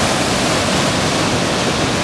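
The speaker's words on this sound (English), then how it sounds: "the river is a-runnin'" A raging river rushes in a loud, dense, unbroken roar of water with no pauses, heard up close with no voices.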